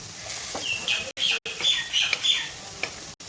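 Birds chirping and twittering nearby, a few short bright calls overlapping over a soft background hiss, with brief gaps of silence.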